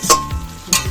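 Water poured into a frying potato curry sets off a sharp burst of hiss, then a quieter sizzle and a second hissing flare, close and brief.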